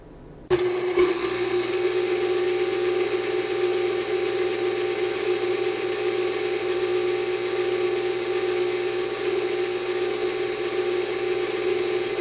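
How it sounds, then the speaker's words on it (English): An electric stand mixer whirs steadily as it beats sour cream pound cake batter, a close, constant mechanical hum starting abruptly and running unchanged with no talk. "once you get it off the mixer, I go ahead and give it another little whirl"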